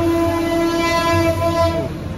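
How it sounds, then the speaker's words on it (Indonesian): A train rumbles past behind a house, loud and steady, with a sustained horn blaring over the rolling noise before it begins to fade. "Suara kereta ya, di belakang rumah ya."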